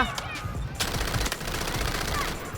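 Sustained automatic gunfire from a shooter in the video game Delta Force, a dense burst of rapid shots lasting several seconds with faint voices underneath.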